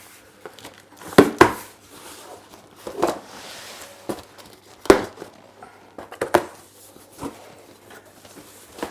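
A utility knife slices through the cardboard box holding Aquascape Scaper soil, giving several sharp cuts and crinkling tears at irregular intervals, close and fairly loud, with no talking.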